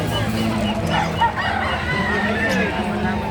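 A native rooster crows amid a busy outdoor scene in Calumpit, with people talking over a constant background bustle.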